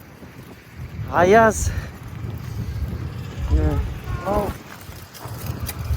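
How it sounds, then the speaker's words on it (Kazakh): Cold winter wind blows outdoors, buffeting the microphone with a low, gusting rumble while people talk over it. "Дала деген жел, суық."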